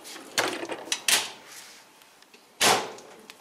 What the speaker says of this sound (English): on this side, I added these two drawers